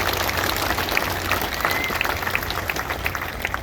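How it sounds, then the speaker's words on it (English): An outdoor crowd at a speaking event claps steadily, a dense wash of applause close by and fairly loud that holds even throughout with no lull. "give Phil another round of applause"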